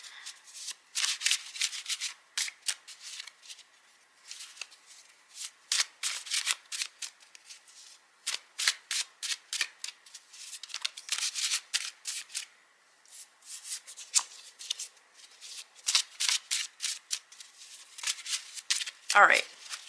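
Oracle cards from a chakra deck are shuffled by hand in quick riffling bursts, crisp papery flutters repeating in irregular clusters with short pauses, close and clear.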